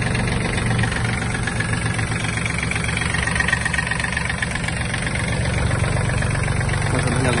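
A Yanmar EF-222 Japanese mini tractor's diesel engine idles steadily at close range, with a constant knocking chug and no one speaking.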